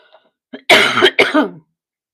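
A few short throat-clearing coughs, close up, with soft breathy onsets before two harsh bursts, no talking.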